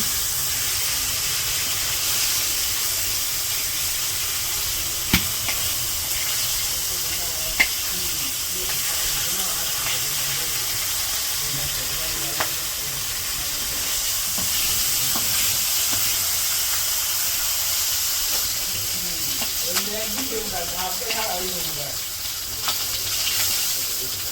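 Fish frying in hot oil, a constant soft sizzle with occasional pops and crackles, and faint background voices now and then.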